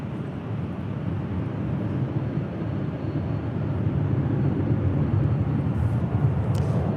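A Southwest airliner takes off from LAX runway 24 left, a distant, steady jet rumble that builds gradually in loudness over several seconds.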